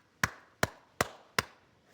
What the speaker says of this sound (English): And those groups identify themselves by making specific patterns of clicks called codas.